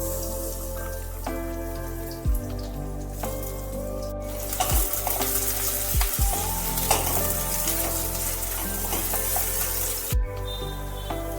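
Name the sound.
thinly sliced onions frying in mustard oil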